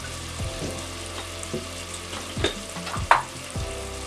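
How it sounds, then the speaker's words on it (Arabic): Onion frying in a pan with a steady sizzle, a spatula stirring and knocking against the pan every second or so, and a faint trickle of water nearby, with no speech. "نزيدو شوية ديال البصل"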